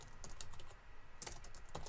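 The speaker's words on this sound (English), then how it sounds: "Can't type today." Quiet clicking of computer keyboard keys, a few scattered taps and short bursts of typing, close and soft with no talk.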